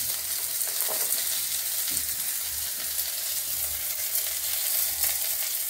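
Garlic and half-softened onions fry in oil for a brinjal tamarind gravy, giving a steady, close hiss of sizzling that carries on evenly throughout, with no voices.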